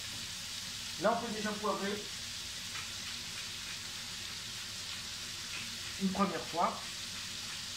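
Venison pieces browning in a frying pan give a steady low sizzle throughout, while someone speaks French briefly twice over the frying.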